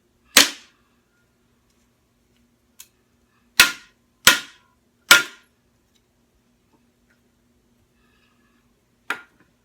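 Staples being driven by hand into a DIY screen-printing frame, five or six sharp isolated snaps with a quick cluster of three in the middle, close and crisp against silence.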